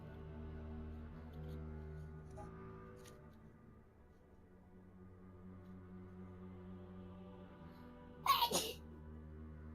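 One sharp sneeze breaks out near the end over soft background game music and quiet room sounds during a gaming session with friends.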